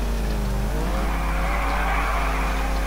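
A tuned VAZ 2101 slides sideways in GTA 4, its engine holding a steady, loud, droning rev with a faint tire hiss, continuous from start to finish and with no talk.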